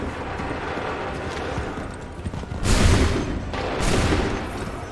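Two musket volleys in the Assassin's Creed III video game: each is a sudden, loud, ragged burst of massed gunfire that rolls and decays over about a second, the second volley roughly a second after the first, over battlefield noise.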